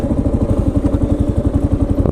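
A motorcycle engine runs steadily up close with a rapid, even pulsing beat, loud and continuous without any talk, at a beachside landing in Fort Walton Beach.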